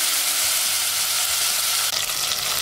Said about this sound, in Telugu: టమాటా ముక్కలు వేసి వేగనివ్వాలి